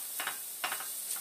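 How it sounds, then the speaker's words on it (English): Diced shallots sweating in hot oil in a pan, a soft steady sizzle with a few brief stirring scrapes, close and fairly quiet. "throw it in here. We want to sweat these shallots down."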